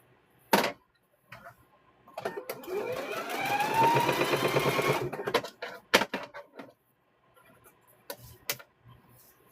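A sewing machine stitches quilt squares in a rising, fairly quiet run of rapid stitching lasting about three seconds, with scattered clicks and handling noises around it.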